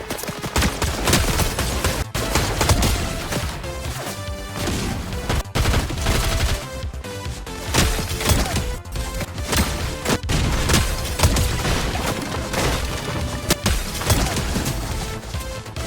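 Sustained gunfight from the video game Fortnite at Lethal Labs, with dense overlapping bursts of rapid gunfire and fusillades, occasional crashes and booms, loud and continuous throughout with no pauses.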